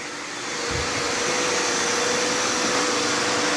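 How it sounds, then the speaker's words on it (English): Several Roomba robot vacuum cleaners run together at close range, giving off a continuous, fairly loud whirring hum that builds over the first half second and then holds steady. "Here I've got all the Roomba robot vacuum cleaners."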